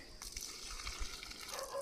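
Water splashes and gushes steadily for a couple of seconds onto newly planted brinjal seedlings, a close, continuous pouring sound with no talking.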